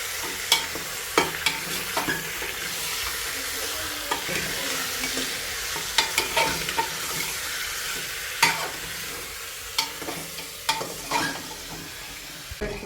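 Mutton masala fries in oil in a pot, a steady sizzle broken by repeated sharp clacks and scrapes of a spoon stirring against the metal, close and fairly loud throughout.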